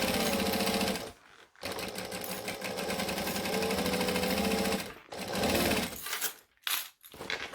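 Sewing machine stitching slowly over a seam, a close steady mechanical whirr of rapid needle strokes that stops briefly several times and then restarts.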